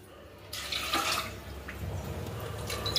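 Water is poured into a pot of soaked lentils for cooking. A close, steady splashing stream begins after a brief pause and runs without a break to the end.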